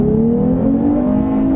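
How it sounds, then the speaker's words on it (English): A 2021 Lexus IS 350 F Sport AWD accelerating, its engine giving a steady rising drone heard from inside the cabin, continuous and fairly loud with no talking. "Another acceleration."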